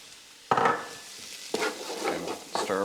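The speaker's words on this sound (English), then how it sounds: "and stir around, and let that fry off for 2 or 3 minutes." Garlic and mixed herbs sizzle and crackle steadily in a hot pan, with three scraping stirs that each bring a fresh burst of frying.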